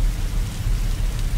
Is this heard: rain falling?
yes